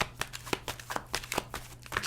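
A deck of tarot cards is shuffled close up, a quick series of crisp riffling slaps and flicks repeating in an uneven rhythm.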